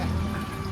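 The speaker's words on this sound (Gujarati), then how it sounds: "અમે આવી ગયા ફિલ્ટરનું પાણી ભરવા" Filtered water runs steadily into a container, a brief, even rushing pour with no pauses or voices.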